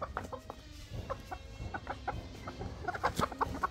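Chickens cluck repeatedly in short, uneven bursts, several birds overlapping at close range against a low rural background hum.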